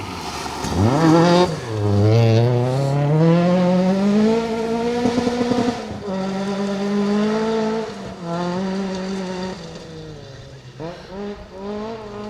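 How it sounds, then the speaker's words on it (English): MG ZR rally car in the 1600 class on a forest rally stage, braking hard, then revving high through the gears as it accelerates away. The engine note rises and falls loudly and close by, with a brief lift off near the end. "hopefully in the glorious sounding MG ZR. On that brake pedal, chuck it in."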